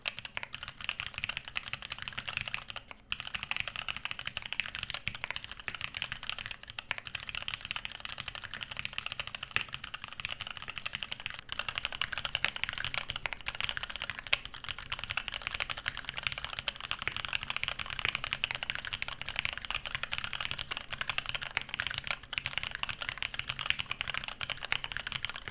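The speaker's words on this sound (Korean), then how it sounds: "우선 키보드 소리를 녹음해 보았는데요" Steady typing on a computer keyboard, captured close by a Blue Yeti USB condenser microphone in a slightly echoey room, with rapid continuous key clicks and a few brief pauses.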